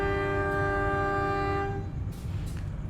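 A Sancaka Utara passenger train sounds a long, loud horn blast at night, followed by the heavy rumble of the moving train continuing on its own.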